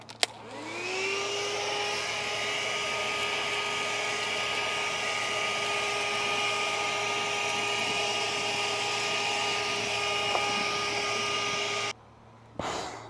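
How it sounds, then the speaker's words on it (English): A vacuum cleaner runs steadily and close up while sucking out rat mess inside a shed, a continuous droning whine for about twelve seconds before cutting off abruptly. "I'm using a vacuum that's probably not quite the best for this, but it'll work."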